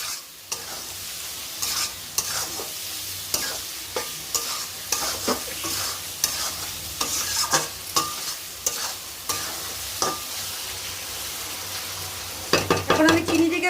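Sugar and salt stirred in a hot pan with a spoon for a paneer fried rice, giving repeated scraping strokes in an uneven rhythm, close and moderately loud, over a faint low hum.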